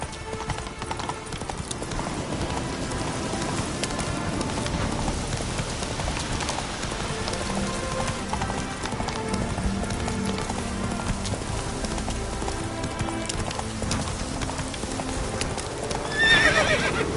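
Roach the horse gallops in The Witcher 3 game, hooves pounding in a fast continuous rhythm with occasional whinnies, over dense music and a rain-like hiss.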